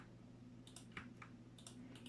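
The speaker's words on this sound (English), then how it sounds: "make place for me to press the keys down on my keyboard" Very faint, scattered key clicks from a computer keyboard being typed on, a few irregular taps over a low steady background hum.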